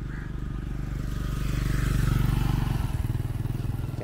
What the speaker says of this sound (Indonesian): macam banyak motor-motor ni.